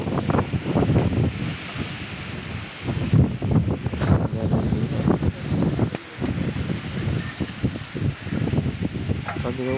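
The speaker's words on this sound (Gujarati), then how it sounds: "પવન બહુ હતો અમે ગયા તેથી" Strong gusting wind buffeting the microphone on a hillside at a temple, a constant loud rumbling roar with surging gusts throughout.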